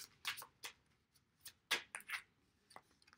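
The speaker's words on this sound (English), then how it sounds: "These cards shuffle really nice." Oracle cards being shuffled by hand, quiet crisp riffling bursts and short flicks in an irregular rhythm, close to the microphone in an otherwise silent room.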